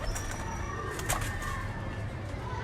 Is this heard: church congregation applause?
no